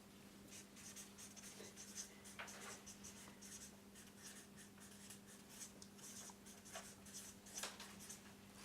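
A pen scratches on paper in quick, irregular strokes, close and quiet over a steady low electrical hum, with short pauses between bursts of writing and no speech.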